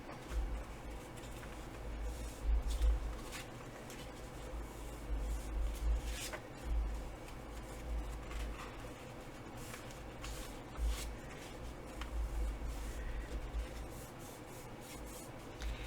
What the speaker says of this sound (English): we're going to accordion fold this